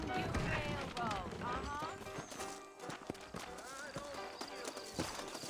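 Horse hooves clip-clop in a loose, steady rhythm close by in the video game Red Dead Redemption, while voices talk over them.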